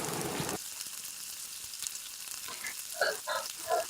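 Sand whiting fish fry in a pan of hot oil, a steady close sizzle running throughout, with a few brief clattering stirs near the end.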